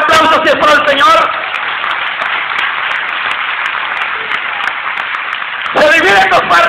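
Church congregation applauding the Lord, a dense, sustained roar of clapping held for several seconds, with a voice speaking before and after it.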